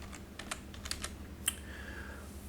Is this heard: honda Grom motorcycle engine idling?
no